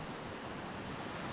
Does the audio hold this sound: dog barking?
no